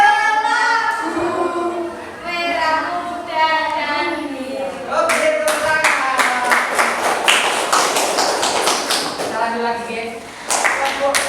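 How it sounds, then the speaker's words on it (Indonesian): A classroom group breaks into rhythmic hand clapping after children speak and count aloud, the claps sharp and fairly close, mixed with voices and pausing briefly before a last flurry. "Tepuk tangan untuk kalian semua."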